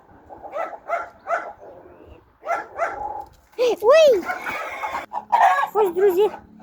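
Chickens fight and cluck in a yard, with a burst of loud, rising squawks and shrill calls in the middle and at the end. Softer clucking and a voice come before them.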